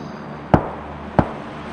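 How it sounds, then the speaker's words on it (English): Gunfire in a PUBG tournament match: two sharp, separate shots a little over half a second apart, sounding somewhat distant over a quiet background. "Lots of gunfire over that way."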